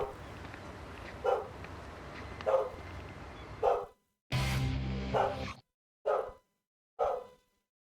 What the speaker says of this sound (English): I can hear Lily barking in the background, so you might hear that as well